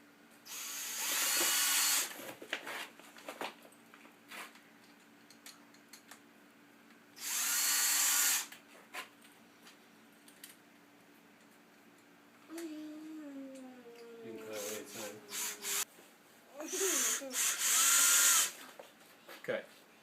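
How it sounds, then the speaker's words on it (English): Power drill driving screws into the wood of a rat rack build, close by. Several separate whirring bursts with quiet pauses between them, and a spoken voice in one of the gaps. "I'm just going to start the screws,"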